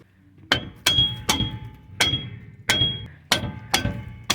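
A 2002–2006 Toyota Camry rear brake drum is struck repeatedly to loosen it: about eight sharp metallic hammer blows at an irregular, roughly half-second pace, close and ringing, with no talking.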